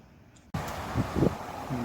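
Strong wind on a windy October day in Amstelveen rushes past outdoors, a broad roaring buffet that starts abruptly and stays loud with gusty swells, while a voice talks over it.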